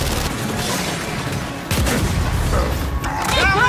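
A frag grenade and gunfire in Gears 5 Horde mode on the Atrium map make a dense, continuous roar of battle. A heavier blast rises partway through, and the noise stays loud and unbroken to the end.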